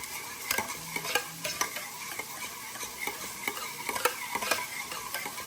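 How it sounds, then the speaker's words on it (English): Melted butter and paprika are whisked together in a bowl, producing a quick, steady run of close metallic ticks and scrapes from the whisk that continue without pause. "Just gonna whisk this up so everything's mixed really well."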